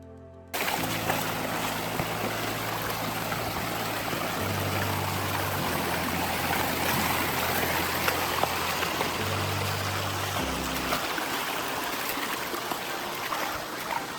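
Water rushes steadily and loudly at Muppochora waterfall, a dense continuous stream flow with a low tonal hum running underneath throughout.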